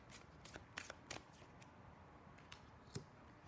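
Crisp, papery tarot card flicks and snaps come in quick irregular bursts as cards are shuffled and laid out, a few louder slaps among softer rustles, close by and with no voices.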